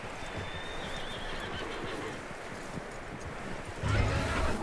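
A horse in Red Dead Redemption 2 whinnies over steady outdoor ambience with wind and rustling, with hoof clip-clop and a louder low thump near the end; no talk.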